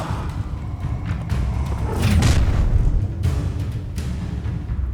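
Incendio fire spell cast in Hogwarts Legacy, a roaring whooshing burst of flame that swells with a booming thump around the middle, set among combat noise with low rumbling under it.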